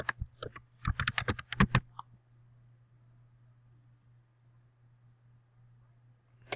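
Rapid bursts of clacking keystrokes on a computer keyboard while entering a login, about two seconds of quick typing, then a low hum and a lone key tap at the end.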